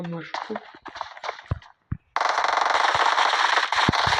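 Bursts of rapid gunfire ring out loud and close after a stretch of chatter, then a sustained dense clatter of shots continues to the end, with voices mixed in at the start.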